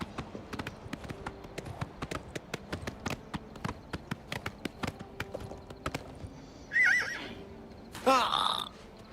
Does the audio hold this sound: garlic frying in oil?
no